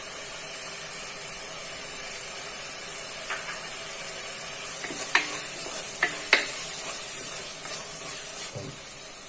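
Tomatoes sauté in sesame oil in a pan while cooking a goat head curry. A steady sizzling hiss runs throughout, with a few sharp clicks and scrapes from stirring, and no one speaks.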